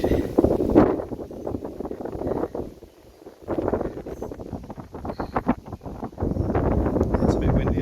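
Gusty wind buffets the microphone in uneven bursts, with a brief lull in the middle before the rushing noise returns.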